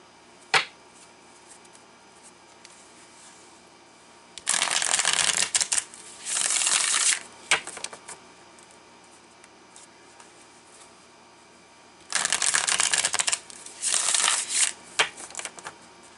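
Tarot cards are shuffled in two long bursts of rapid, crisp riffling and flicking, close and loud, separated by quiet with a few isolated taps.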